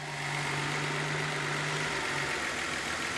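A Datsun 280ZX engine idles steadily up close, a constant mechanical hum with a low droning tone and faint vibration, no voices over it.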